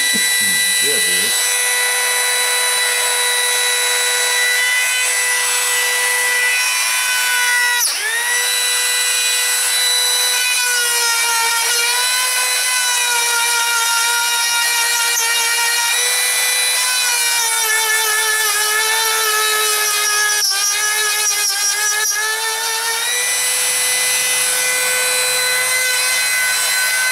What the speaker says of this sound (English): So I'm going to go drill that now.